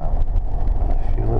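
Air conditioning in a 1996 Lincoln Town Car limousine gives off a steady, close, airy rush of blowing air, with a voice faintly under it.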